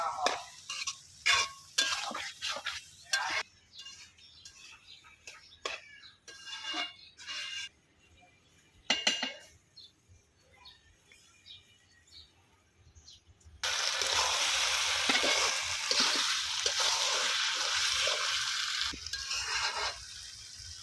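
Dried loitta fish bhuna is stirred in a pan with scraping strokes in bursts, then a steady, loud sizzle of frying takes over for the last stretch.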